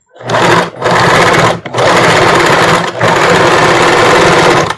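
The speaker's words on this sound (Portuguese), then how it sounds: "E no mesmo ponto, número 1 aqui do zigue-zague, a gente vai fazer o acabamento." A sewing machine runs a zigzag stitch to finish the edge of a bra, loud and close, in four long bursts separated by short pauses.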